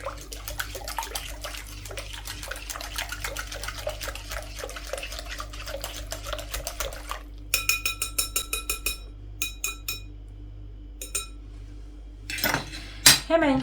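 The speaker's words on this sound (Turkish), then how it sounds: "İyice malzemelerimizi çırpıcı yardımıyla çırpalım." Metal whisk beating börek batter ingredients in a bowl, rapid rhythmic clinking and scraping for several seconds, then sparser taps and a few louder knocks near the end.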